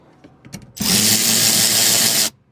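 A wrench with a 10 mm extension removes bolts inside a Nissan Infiniti door panel: a few faint clicks, then one loud, close mechanical whir lasting about a second and a half before it stops abruptly.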